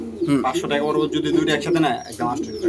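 Pigeons coo repeatedly in a bird shop selling breeds such as Lahori, Satin, King, Maltese and racing pigeons, a close, busy overlapping chorus of throaty calls.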